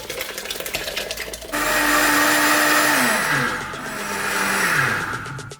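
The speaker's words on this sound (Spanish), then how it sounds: "lo que vamos a hacer es triturar la crema con batidora eléctrica o con el vaso batidor" Electric hand blender pureeing mushroom cream soup, starting with clatter, then whirring loudly with a pitch that shifts as it churns the thick mixture, close and alone.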